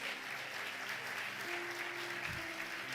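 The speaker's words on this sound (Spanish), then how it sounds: "Denle un aplauso fuerte a Jesús." Church congregation clapping together, a steady, moderately faint patter of applause lasting throughout with a low hum beneath.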